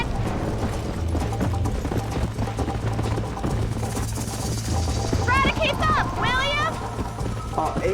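Horse hooves clop in an uneven beat as a rider moves through Red Dead Redemption on PC, mixed with game sounds and someone talking over them, with bird-like chirps near the end.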